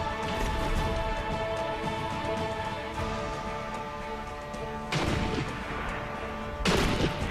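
Gunfire in the Sniper Elite V2 video game: two loud, sharp bursts of shots stand out a couple of seconds apart over a steady, droning musical background.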